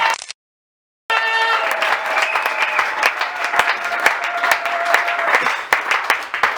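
A church congregation at a consecration service of Eglise Parole de Vie breaks into loud, sustained applause after a brief silence, with a steady tone ringing over the clapping.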